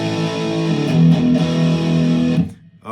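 Distorted electric guitar playing a sequence of three power chords, D5, A5 and E5, each chord ringing thick and sustained before the last one cuts off abruptly, loud and close with no talking.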